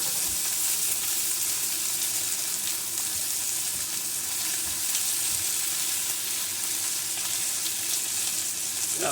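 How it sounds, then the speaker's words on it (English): Garlic sautés in melted butter in a hot pan, a loud continuous sizzle and crackle that holds steady throughout, with no talk. "I'm going to add a little bit of butter to the pan. And we're going to add our garlic."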